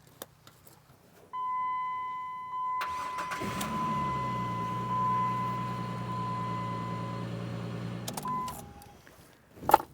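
A car engine starts after a boost from a GOOLOO GP40 jump pack. A chime beeps, then the starter cranks, the engine catches and idles steadily for several seconds, and a few clicks and a bump follow as it cuts off.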